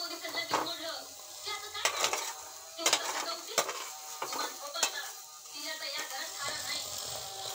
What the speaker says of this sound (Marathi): आता त्याला छान भाजून घेऊ। या प्रकारे छान भाजून घेऊ आपण कमी पावरवर।